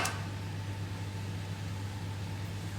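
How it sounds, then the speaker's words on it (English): Peaches sizzle in honey in a pan as a steady, even hiss with a low hum beneath it, continuous and unbroken with no one talking. "They're sizzling away in the background."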